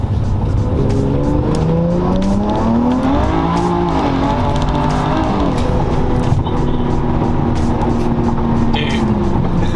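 A BMW Gen1 car with the B58 engine, running R888R tires, accelerates hard, its loud engine note rising steadily in pitch through the gears and staying close and continuous throughout.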